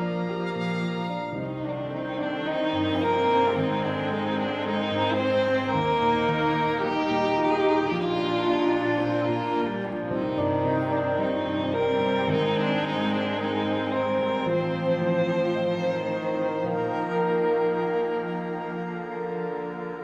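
Layered Chris Hein Solo Strings samples play a sustained, doubled melodic line, rich and steady throughout with no voices.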